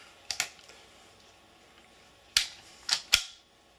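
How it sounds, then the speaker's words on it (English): Magazine being handled and seated into a stainless Sig P220 Elite .45 ACP pistol, a few sharp metallic clicks and snaps, one early pair and then a quick cluster of three, close up over a quiet room. "Now I'm going to put the magazine in there."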